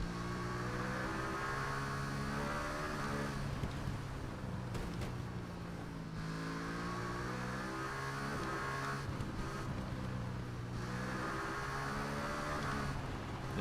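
A superbike's engine drones in TT Isle of Man 2 road racing, a sustained high whine that rises and falls through gear shifts, with brief dips and surges as the rider accelerates and brakes, steady and loud throughout.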